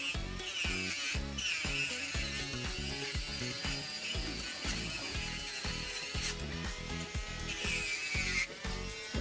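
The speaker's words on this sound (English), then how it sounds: "These little sanding discs are supposed to be able to get down in those crevices and stuff" A rotary tool spins small 120-grit sanding discs against a copper bracelet, polishing inside its air-chased crevices; a steady close whir with rhythmic grinding pulses as the disc bites and lifts, running continuously without talk.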